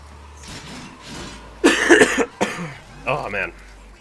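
Harsh coughing fit from a man, a couple of faint rough coughs followed by a loud burst and a shorter throaty cough near the microphone.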